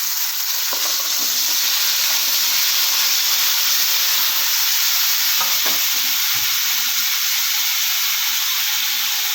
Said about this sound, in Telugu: ఇప్పుడు మనం మళ్ళీ కొంచెం ఆయిల్ అనేది వేద్దాం. ఇప్పుడు ఇందులో మనం టమాటాలు వేసేసుకుందాం.